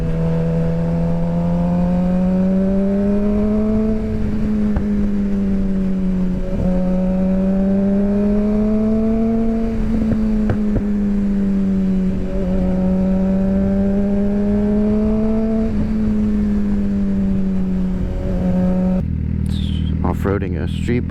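Street bike engine running at a local car meet, a loud steady drone whose pitch rises and falls in slow revving swells, ending with a sudden clattering shift; voices are also present.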